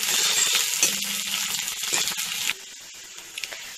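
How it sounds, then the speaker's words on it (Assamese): Onion and bay leaf frying in hot oil, a steady close sizzle with occasional stirring and light utensil clinks that drops quieter partway through. "এতিয়া সেই তেলতে পিঁয়াজ দিলোঁ"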